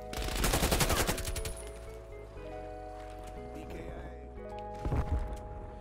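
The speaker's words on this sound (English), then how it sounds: "who's shooting me?" Rapid automatic gunfire from a Black Ops Cold War multiplayer match, bursts clustering near the start and again toward the end, loud and close, with a steady in-game background hum and tonal effects between the volleys.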